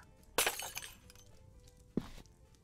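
Glass breaking in a video game, a sharp shatter followed by tinkling shards, then a second smaller crash about a second and a half later, loud against near silence.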